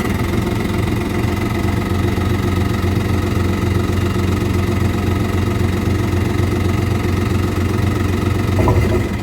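A jet ski engine idles steadily up close, with a loud, even mechanical drone and rapid low pulsing that holds for the whole stretch, with a slight bump near the end.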